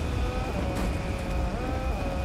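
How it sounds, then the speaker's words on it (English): A steady car engine hum in the video game Fortnite drones on with a sustained whine, constant in loudness and fairly close, with no talking. "The sounds of this car."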